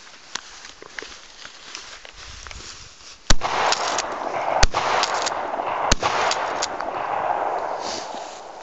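Shotgun fired out in sand dunes, three loud sharp blasts spaced a second or two apart over a constant rush of wind and faint crunching footsteps, no talking.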